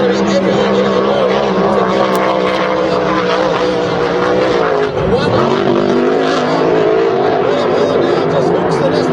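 A 6-litre hydroplane racing boat engine drones loud and sustained on the water, its steady harmonic roar rising slightly as it accelerates, with a race commentator talking over it throughout.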